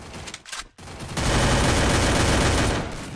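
Rapid MP5 submachine gun fire in the video game Free Fire, a loud continuous burst of automatic shots running for a couple of seconds after a brief spurt and a short pause.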